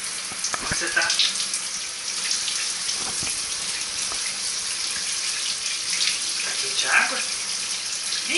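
Water runs steadily from a tap for a bath, a continuous close hiss with small splashes and shifts in the flow throughout.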